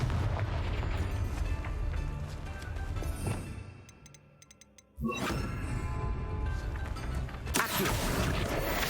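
Confringo fire spell in Hogwarts Legacy, loud crackling explosive bursts with heavy rumble, a brief lull with a few sparkling chimes, then a sharp new blast and more fiery roaring.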